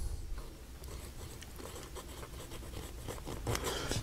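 A vintage Parker Challenger fountain pen nib drags across paper, a soft, close scratching that rises and falls with each stroke, quiet and continuous with a few brisker strokes near the end.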